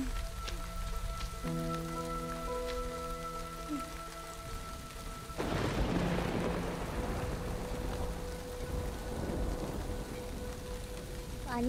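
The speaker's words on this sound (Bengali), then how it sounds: "এত বৃষ্টি পড়ছে" Heavy rain pours steadily and close, a dense hiss that swells into a louder, fuller downpour about halfway through, with a soft musical tone sounding beneath the first part.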